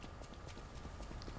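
Hooves clip-clop in a quick rhythm as a summoned horse moves in the video game Lies of Pi. The hollow clopping is distinct and fairly close, with no talk over it.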